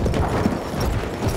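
Galloping horse hooves in Battlefield 1, a dense, steady clatter of hoofbeats running continuously and fairly loud throughout.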